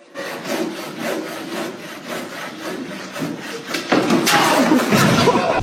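A hacksaw cuts through foam in steady back-and-forth strokes, a rhythmic rasping that grows rougher and louder toward the end.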